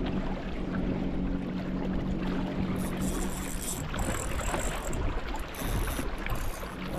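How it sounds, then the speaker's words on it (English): A fishing boat motors up the current off Welshpool, with a continuous engine rumble and rushing water and wind noise that stay close and even throughout, with no voices. "So just cruising up the current now, Chris?"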